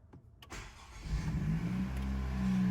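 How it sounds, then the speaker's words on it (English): After a brief click, a 2016-2021 Honda Civic engine cranks and catches, then settles into a steady, rising idle rumble close by. "so you're gonna start the car"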